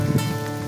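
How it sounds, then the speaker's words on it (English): Hail falling at a mountain campsite near Mt. Langley, a dense continuous patter on tent and gear, close and steady throughout. "and it's starting to hail on us."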